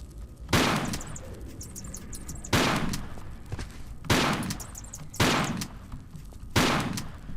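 Five loud, booming video game gunshots from Tomb Raider 4 ring out at roughly even intervals, each followed by a lingering echoing tail, with no talking.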